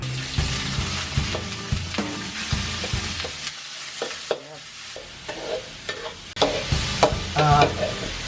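Chicken stir-fries in a hot pan for old-style Thai holy basil stir-fry, sizzling under repeated sharp scrapes and clacks of the spatula, with a quieter lull midway before the stirring picks up again.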